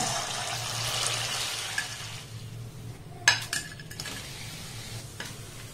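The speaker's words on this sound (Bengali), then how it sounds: "এইভাবে সবগুলোকে আমি সুন্দর করে ভেজে নেব।" Sweets of ripe mango, milk and chhana fry in a pan with a steady, close sizzle, broken by a few sharp clinks of utensil against the pan partway through.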